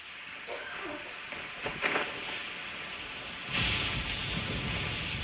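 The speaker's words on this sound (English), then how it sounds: "where is the storm headed?" Steady rain pours in a Genshin Impact thunderstorm, with a low rumble of thunder swelling midway and the downpour growing heavier and louder, with no voices.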